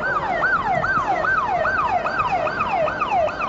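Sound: ambulance sirens on avenue

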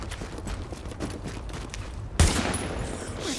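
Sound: shotgun gunfire in Tom Clancy's The Division video game

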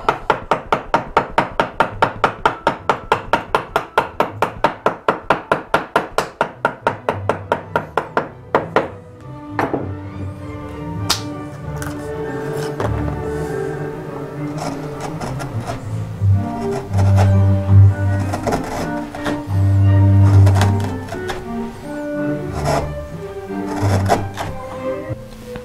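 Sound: mallet and chisel shaving wood grain on chest drawer

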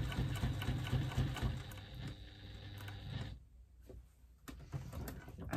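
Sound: sewing machine stitching around a fabric bag pocket

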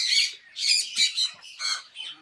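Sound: geese honking

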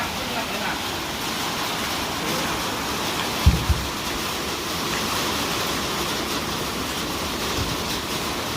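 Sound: rain

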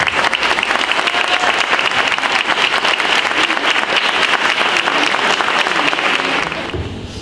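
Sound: audience applause

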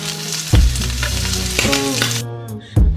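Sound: shrimp heads frying in wok to render shrimp oil

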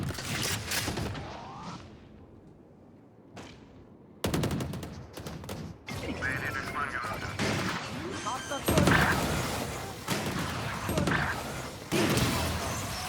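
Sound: explosion in a video game

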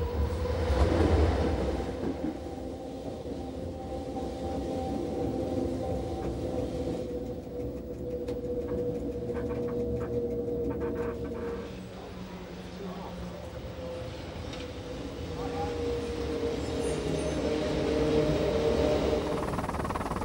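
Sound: railway train running through a tunnel

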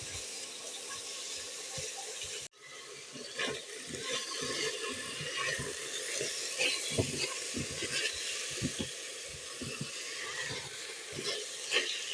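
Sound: chicken fillet frying and being stirred in a pan

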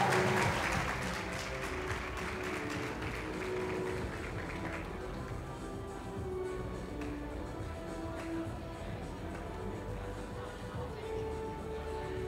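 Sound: audience applause at an award night

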